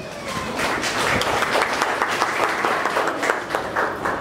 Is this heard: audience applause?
yes